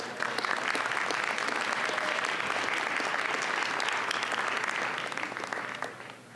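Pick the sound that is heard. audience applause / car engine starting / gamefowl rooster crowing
audience applause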